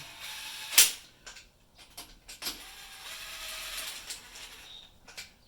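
Ratchet snugging down bolts on a Dodge 4.7 engine bed plate, a sharp close click followed by scattered light clicks and mechanical rattles with quiet gaps, no talking.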